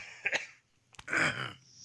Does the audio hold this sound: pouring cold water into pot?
no